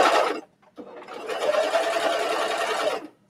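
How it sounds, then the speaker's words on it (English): A double cover stitch sewing machine runs close and loud while stitching binding onto a bathing suit coverup, a short burst, a brief pause, then a longer steady whirring run that stops abruptly. "So again, I've got the double cover stitch,"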